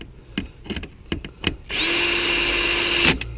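After a few light clicks and taps, a power drill whirs steadily for about a second and a half, driving screws into a third brake light on a 2012 Chevy Avalanche, then stops.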